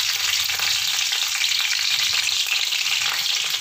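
Dried chillies and bay leaves fry in hot oil for an Assamese fish dish, a continuous dense sizzle at steady loudness, close and uninterrupted, with no voices.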